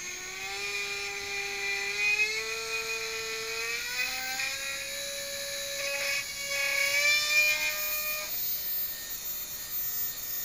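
A brushless RC helicopter motor driven by an FX71 BLHeli controller, spinning up as a steady high whine that climbs in pitch and then dips, with a constant buzzy hum throughout.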